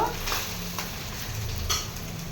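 Boiled rice goes into a hot karai of cashews and raisins frying in ghee, giving a steady close sizzle and hiss broken by a few stirring scrapes and soft pan knocks.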